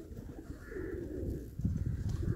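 Domestic pigeons let out to warm in the winter sun coo in soft, repeated rolling calls, close by and fairly loud, with a fuller burst of cooing toward the end.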